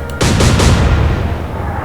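Heavy naval gun salvo from the Atlantic Fleet game, a loud deep boom with a few quick follow-up blasts, then a long rumbling decay.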